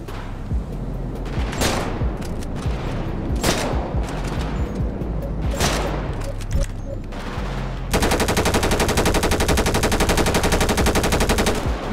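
Rapid sniper gunfire in a game crackles in repeated bursts, then gives way to a dense, continuous rattling of shots; no talking.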